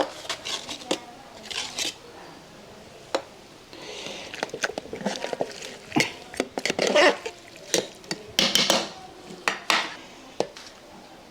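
A spoon clinks and scrapes against a metal pot while masala is stirred for a Yemeni-style Zurbian chicken biriyani. The knocks come close and irregular, with a few quiet words of talk.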